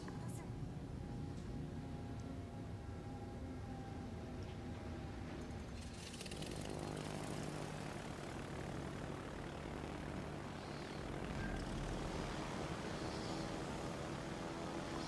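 Propeller planes launched from an aircraft carrier drone steadily in World of Warships Legends, a continuous engine hum beneath game effects and a voice talking over it, swelling slightly louder partway through.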